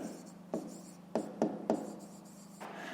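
Pen scratching on paper while a math exercise is written out, several short strokes and taps at close range over a faint background hum.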